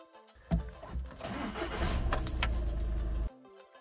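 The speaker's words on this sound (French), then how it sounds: "Démarrez la voiture." A VW Passat B7 starts up nearby after a faint jingle of keys: a sharp crank followed by a steady low engine hum for a few seconds before it cuts off.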